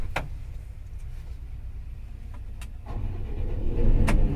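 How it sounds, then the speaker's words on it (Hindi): Zoomlion crawler crane diesel engine starting up inside the cab, a steady low rumble with a few clicks, swelling louder toward the end as the engine catches and runs. "इधर इंजन स्टार्ट हो गया"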